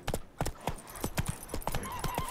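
Horse hooves clip-clopping in a steady, fairly close rhythm as Roach, Geralt's horse in the video game The Witcher 3, walks along, with a brief soft whinny-like sound mixed in and no talk.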